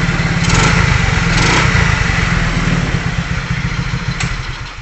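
Motorcycle engine running on a battery-less 4-pin CDI, a loud, close, steady single-cylinder putter with rapid regular firing pulses that fades slightly toward the end.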